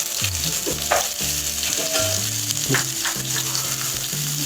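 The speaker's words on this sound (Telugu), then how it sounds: "ఇప్పుడు దీన్ని గోల్డెన్ బ్రౌన్ కలర్ వచ్చే వరకు ఫ్రై చేసుకోవాలి, సిమ్లో పెట్టుకొని ఫ్రై చేసుకోవాలి" Sliced onions frying on low heat in hot oil for egg biryani, a loud, steady close-up sizzle with periodic stirring scrapes, over a continuous background music bed, without any voices.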